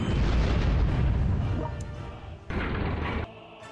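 Bombing explosions in a wartime strategy game set during the Algerian War of Independence produce heavy, rumbling booms that fade and then return as a second abrupt blast, loud and close with no voices.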